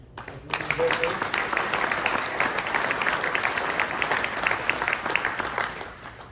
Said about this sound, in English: Get an applause.